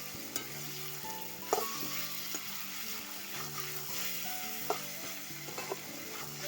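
Potatoes frying in a pan with spices and green chillies, a steady sizzle under repeated stirring and scraping, with occasional louder clinks of the spatula against the pan.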